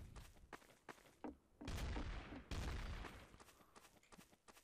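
Gunfire in Garry's Mod Trouble in Terrorist Town, several sharp shots fired close together in quick bursts, with a louder sustained blast near the middle and background game noise.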